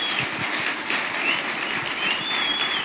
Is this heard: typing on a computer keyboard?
no